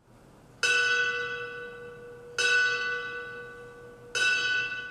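A fire station bell struck at a ceremony in Dakota City, Nebraska rings out three times, evenly spaced strikes, each loud and ringing on with a long decaying tone.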